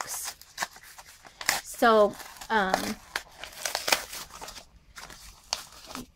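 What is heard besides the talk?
opening a package of deco tape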